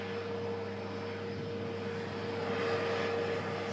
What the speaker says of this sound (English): we'll just capture this taxiing off just in front of us